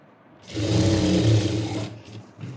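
A sewing machine stitching fabric for a kurti runs in one steady, close, whirring burst of just over a second, then stops and leaves faint handling sounds.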